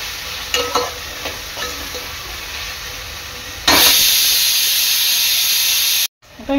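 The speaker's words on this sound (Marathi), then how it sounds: "कांदा टोमॅटो ना चांगले तेलात शिजवून घ्यायचे आहे।" Chopped onion and tomato cook in hot oil for sambar, first with faint stirring taps, then a loud, sudden sizzling hiss that holds steady before cutting off.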